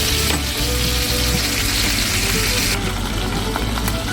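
Chicken fries in a pan inside a small van kitchen with a steady, close sizzle and crackle that runs continuously, the heat just turned down low.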